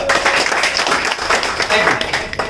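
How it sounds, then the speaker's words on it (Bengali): Audience applause at an MLM business-plan seminar: a dense, steady patter of many hands clapping that lasts the whole stretch, with voices mixed in. "এই জন্য হাত তালি হয়ে যাবে।"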